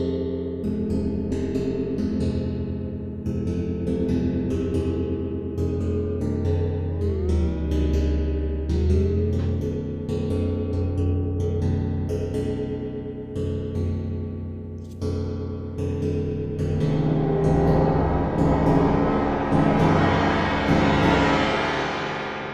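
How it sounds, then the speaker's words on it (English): Simulated connected metal plates struck with a virtual mallet on the top plate, ringing with shifting, warbling tones and rattling non-linear buzz that thickens toward the end, loud and continuous with no talk. "as we turn up the strength of the connections, you're getting all this like non-linear effects going on as you strike the top plate."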